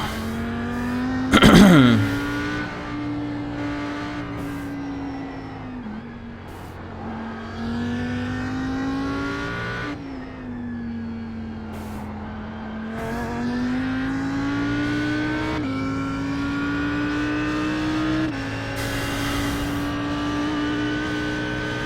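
An Audi R8 GT3 race car engine in iRacing, lapping the Nürburgring combined circuit, holds a steady loud drone in a high gear, sounding bogged down. There are a few brief throttle swells, plus one sharp revving blip near the start.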